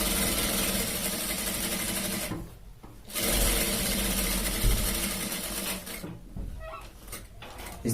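Sewing machine stitching a shirt collar, a steady mechanical whirring that runs continuously, pauses briefly twice as the fabric is turned, then resumes close and clear without any talking.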